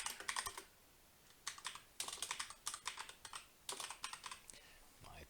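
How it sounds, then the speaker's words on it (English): Bursts of typing on a computer keyboard while entering sales tax rate details into software, quick clattering keystrokes in several separate flurries with short pauses between, close and moderately loud. "My typing's not doing too good today."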